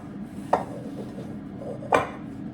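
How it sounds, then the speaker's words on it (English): Egg being chopped through a nut-free, gluten-free brown bread mixture in a bowl; two distinct sharp knocks of utensil against the bowl, roughly a second and a half apart, over a quiet kitchen background. "I'm basically just chopping the egg through the mixture"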